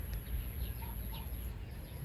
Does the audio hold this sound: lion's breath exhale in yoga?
no